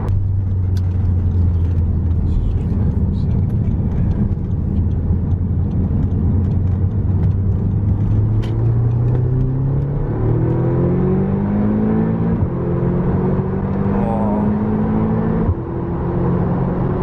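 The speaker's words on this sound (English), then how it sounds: "That was quick to get up to 70 miles an hour." Remapped Audi TT in normal drive mode accelerating hard up to 70 mph, a steady loud engine drone from inside the car that rises in pitch through the gears, with no talk over it.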